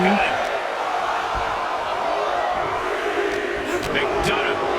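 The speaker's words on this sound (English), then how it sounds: "Listen to the crowd." Arena crowd noise from a WWE 2K23 wrestling match, a steady dense roar of cheering spectators sustained throughout with a faint commentary voice beneath it.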